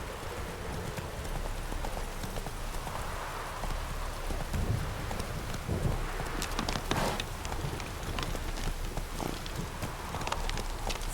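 Roach, a horse in The Witcher 3, gallops with a steady rhythmic clip-clop of hooves close by, under light patter that sounds like rain.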